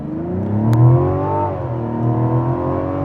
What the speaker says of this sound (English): Try one out in sport mode on the gas.